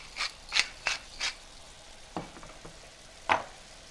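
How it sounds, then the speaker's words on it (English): A spoon stirs pasta sauce in a pan, before crumbled turkey sausage goes back in, giving a few close scraping swishes in quick succession, then softer scattered scrapes and one more sharp stroke, no talking. "Give it another stir."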